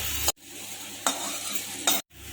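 Cumin seeds dry-roasting in a pan along with coriander seeds and sesame, a close, bright hissing rattle that runs in three bursts with sharp pauses between them.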